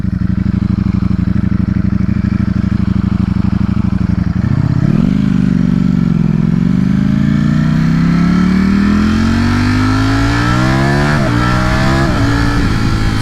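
Ducati StreetFighter V4S motorcycle on a road, engine held steady then blipped and revved up through a rising pitch sweep, loud and close throughout with no talking.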